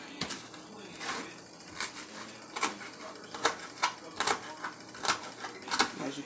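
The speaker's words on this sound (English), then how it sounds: "I just fold it, roll it up on that vein, and I cut it." A knife slicing through rolled collard green leaves on a board, a series of crisp irregular chops and taps, close and fairly quiet, with a voice talking softly in the background.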